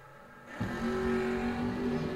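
Bracket drag racing cars launch side by side at a championship meet, a dull idle giving way to a sudden roaring surge of engines that stays loud and sustained as they accelerate down the strip.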